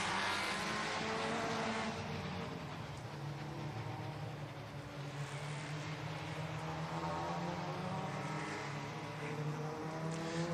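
Super Touring race cars, including an Opel, leave the pit lane at Monza, their engines droning steadily at a moderate distance with layered tones and occasional rising passes, with no talk.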